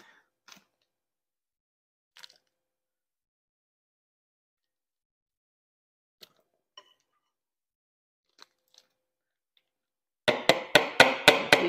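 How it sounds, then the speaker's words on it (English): A filled piping bag of cheesecake batter is tapped against a surface to knock out air, giving a quick burst of about six sharp, evenly spaced knocks at the end after a few faint isolated clicks. "Taps, make sure you get the air out, that way you can get more of it in."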